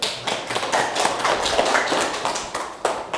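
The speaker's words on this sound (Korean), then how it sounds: "여러분, 박수 한번 주십시오." A lecture audience applauds at a humanities talk, a dense, steady patter of many hands clapping for about three seconds that swells slightly in the middle and tails off.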